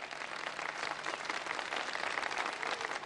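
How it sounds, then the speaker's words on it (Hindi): Steady applause from a crowd, many hands clapping continuously for a few seconds with no talking. "तालियां बजा दें भाई।"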